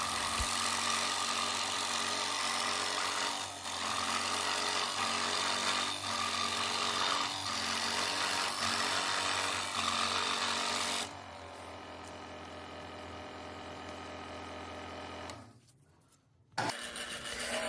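A loud, steady power tool whines continuously while cutting wood, then its pitch and intensity drop as it winds down, followed by a brief clatter near the end.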